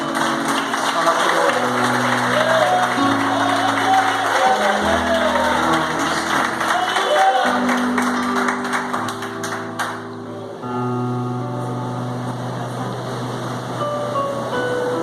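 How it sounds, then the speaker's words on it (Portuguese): Church congregation applauding during a sermon, a steady wash of clapping and crowd noise carried over sustained keyboard or organ chords, loud and continuous, easing slightly toward the end. "Sem fechar a Bíblia, desocupa as tuas mãos e dá uma salva de palmas"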